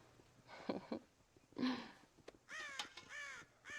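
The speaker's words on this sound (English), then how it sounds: "God damn crows!" Crows caw in the Red Dead Redemption video game, with several harsh calls, a cluster early on and then longer strained caws near the end, heard fairly faintly over low ambient background.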